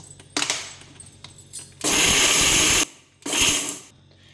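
A mixer grinder pulses on rose petals and spices for tea powder, two loud bursts of whirring grind, the first about a second long and the second shorter, with light clatter before them.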